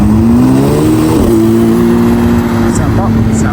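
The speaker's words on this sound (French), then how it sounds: "Petite 911 Dakar qui arrive, plaqué Monaco, incroyable ça." Porsche 911 Dakar with Monaco plates pulls in at a 2024 Cars and Coffee meet, its engine a steady, loud rumble with a slight rise in pitch, under people talking nearby.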